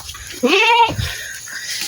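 A single goat bleat, close and clear, wavering for about half a second, followed by a low rumble of background noise.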